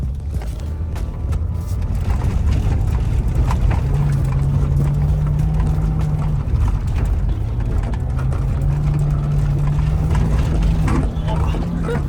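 A cheap BMW E36 budget drift car with weak power steering and a damaged front guard, its engine droning loud and steady as it slides around a paddock. The pitch lifts and settles in long sustained pulls.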